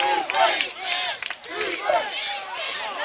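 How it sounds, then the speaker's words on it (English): A high school football crowd at a Providence Christian versus New Brockton game yells and chants loudly in sustained rising waves, cheering the home defense. "crowd getting up, trying to cheer their defense on here to stop Providence"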